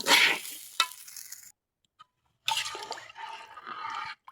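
A loud hiss and splatter as hot water hits a hot pan of fried rice for biryani, dropping to silence, then a second burst of bubbling sizzle.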